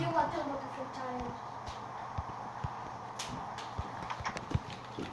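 Horse hooves clop on hard ground nearby in an uneven, unhurried rhythm while people talk.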